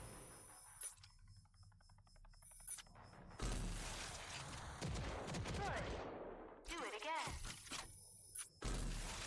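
Homing rockets from a smart rocket launcher fire in Rage 2, a rapid volley of launches and shattering blasts bursting over a mechanical hum, loud and dense with brief gaps between salvos.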